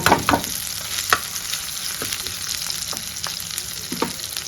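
Marinated raw chicken, coated in turmeric, salt and chilli powder, lands in hot oil over a cooked-down masala paste for Telugu-style chicken fry, crackling loudly at first, then sizzling steadily with scattered pops and spoon scrapes.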